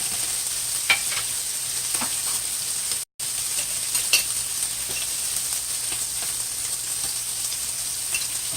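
Saltfish and tofu rundown being stirred in a pot with coconut oil, a steady soft sizzle with scattered light scrapes and clicks of the spoon, no talking, one brief dropout midway.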